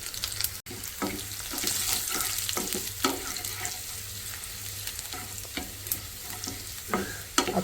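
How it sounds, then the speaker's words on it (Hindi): Dried red chillies with chopped ginger, garlic and cumin frying in hot oil for a dal tempering: a steady close sizzle with scraping stirs and occasional clinks, no talking. "डालेंगे 4 से 5 सूखी हुई मिर्चें, पहले इनको भूनेंगे।"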